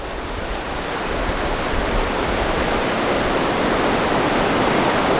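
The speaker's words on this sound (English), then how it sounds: "And this is the Gunnison River." The Gunnison River rushes through a narrow canyon section called the Narrows, a loud, steady, broadband roar of moving water that fills the scene without a break.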